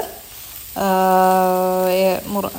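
Long beans sautéed in a pan until half cooked, with a bright sizzle rising suddenly partway through and holding steady before fading; a loud, strong tonal whine rings over the frying, close and without talk.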